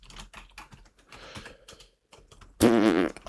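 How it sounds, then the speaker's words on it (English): Rapid computer keyboard typing, a quick run of light clicks at moderate volume, ending in a sudden louder burst. "I can type like shh."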